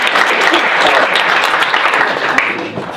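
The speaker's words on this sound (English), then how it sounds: "You can applaud, that's cool." An audience at the NewSpace 2017 conference talk breaks into dense, loud applause that holds steady and then tapers slightly over a few seconds.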